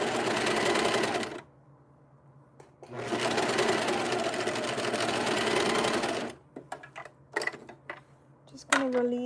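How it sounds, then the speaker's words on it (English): A serger stitches fabric during gown and jumpsuit alterations, running in two long, fast, buzzing bursts separated by a short pause, then stopping amid light handling clicks and rustles. "And so when you serge, you want to always leave a tail."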